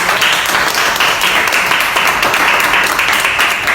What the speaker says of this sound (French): Acclamons pour papa.